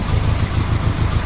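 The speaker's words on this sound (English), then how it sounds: "listen to that motor" A car engine rumbling at idle close by, a deep, steady low throb with slight uneven pulsing and no voices.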